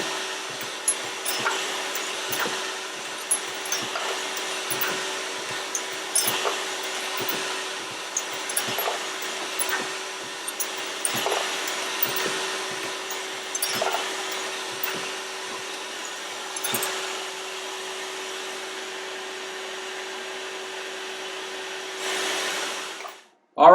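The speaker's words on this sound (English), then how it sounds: "be turning on the vacuum that's going to suck away the chips" Dillon RT1500 trimmer on a Dillon XL750 reloading press sizes and trims brass cases while its chip vacuum runs in a steady loud whine, with regular sharp clunks from each press stroke throughout, cutting off at the end.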